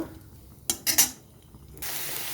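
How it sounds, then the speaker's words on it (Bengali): Whole spices, bay leaf, cloves, cardamom and cinnamon dropped into hot oil in a wok, a few sharp clattering bursts followed by a steady low sizzle building near the end. "এবারে দিয়ে দিচ্ছি ফোড়ন গরম মশলা তেজপাতা লং এলাচ দারচিনি এবারে একটু খুব ভালো মতন ভেজে নেব"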